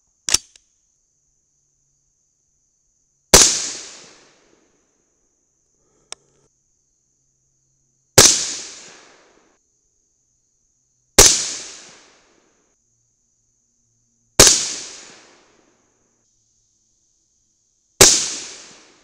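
Sharp, loud rifle shots firing a Mk 262 clone load with Sierra bullets over AA2520 powder, six spaced cracks each trailing off in a short echo, separated by several seconds of near silence.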